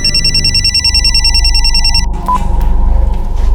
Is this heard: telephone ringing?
yes